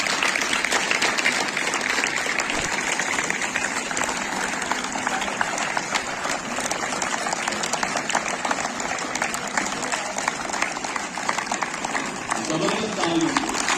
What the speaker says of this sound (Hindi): जबरदस्त तालियों से।